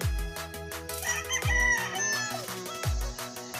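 A White Kelly banded stag rooster crows repeatedly, with three loud, close calls spaced about a second and a half apart.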